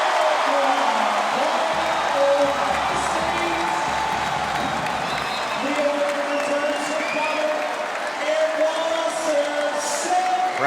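A crowd at St. John Arena in Columbus, Ohio, cheers and applauds during an NCAA men's volleyball championship match, a sustained roar of clapping and whoops under an announcer's commentary.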